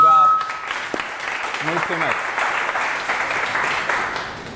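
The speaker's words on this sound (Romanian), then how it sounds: "2 secunde de aplauze v-aș mai ruga." Audience applause at a public speaking support group meeting, breaking out after a brief spoken thank-you and continuing as steady, fairly close clapping from a small crowd for several seconds.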